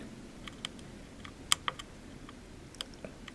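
Menu buttons on a Panasonic AG-HMC150 camcorder are pressed in a series of small, close, irregular clicks, with one sharper pair in the middle.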